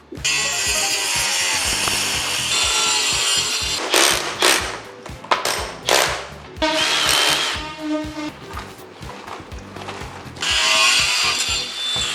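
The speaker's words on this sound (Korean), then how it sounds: "이 바닥면을 커팅을 해서 이쁘게 딸 거예요" A saw cuts into the floor surface of a restaurant kitchen during plumbing work, to open the area around a pipe without touching it. Loud, sustained grinding and cutting comes in bursts with short pauses, close by and with no talk.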